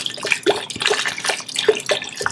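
Wine poured into a pan of cooked-down onions and garlic, giving a close, bright liquid splash and sizzle with irregular bursts over a couple of seconds, no talk.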